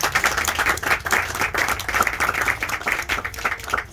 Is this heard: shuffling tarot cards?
no